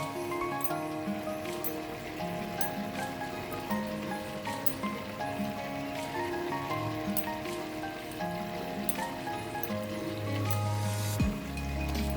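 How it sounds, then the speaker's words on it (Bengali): Bengali curry gravy for pointed gourd dorma bubbles steadily in a pan, a dense, continuous simmering patter with soft popping throughout, and no talking over it. "ঝোলটা আমার ফুটে গেছে"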